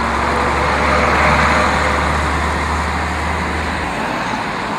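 A 1958 AEC Reliance bus drives past with a loud, steady engine drone and road rumble that holds for several seconds, with no voices.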